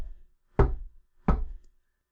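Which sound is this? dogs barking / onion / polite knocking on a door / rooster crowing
polite knocking on a door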